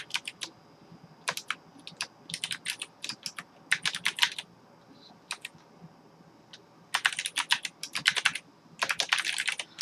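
Typing on a computer keyboard in bursts of rapid clicky keystrokes with short pauses between, close and fairly quiet, with no one talking.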